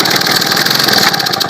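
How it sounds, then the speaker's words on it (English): A Victa lawn mower engine, fueled to check whether the carburetor works, sputters into life briefly. It makes a loud, rough, continuous running rumble close by with no talking. "You may have noticed it did try and fire and start for about 1 or 2 seconds"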